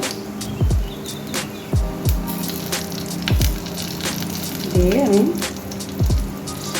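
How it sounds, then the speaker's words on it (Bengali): Nigella seeds and green chillies tossed into hot oil for a vegetarian bhindi posto. Loud sizzling with several sharp crackles and pops at regular intervals, plus a brief squeaky chirp near the middle. "আমি দুটো একটা কালো জিরে ফেলে দেবো তেলের মধ্যে কটা লঙ্কা কাঁচা লঙ্কা দেবো"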